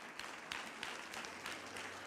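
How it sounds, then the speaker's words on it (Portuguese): A church congregation applauds in a steady, soft wash of clapping that sounds distant and fairly faint, with no clear voices over it. "Pode aplaudir, irmãos."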